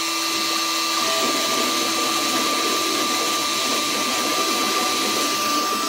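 An X-Carve CNC machine cutting a Coast Guard plaque gives off a loud, steady machine whine with a constant high tone, running continuously and without talk.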